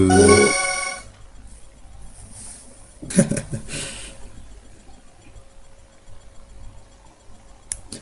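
A phone message alert sounds, a short bright chiming tone at the start, followed by quieter clicks and rustling in a room.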